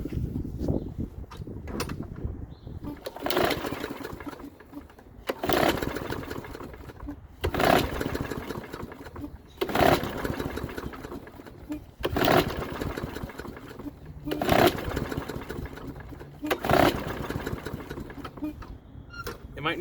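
A lawn mower engine is cranked over and over, with short rough bursts every couple of seconds that never catch into a steady run, heard close up.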